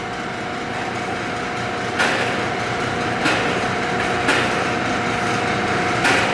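A Northfield No. 7 25-inch planer runs with its feed engaged, a steady mechanical drone with a basic bearing-mounted speed control adding a light rattle, plus regular louder knocks roughly every second or so.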